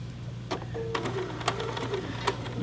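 A Riley Blake pillow project on a 590 sewing machine with the foot in float mode, sounding as a few short close mechanical stitching bursts and clicks over a constant low hum, with no voices.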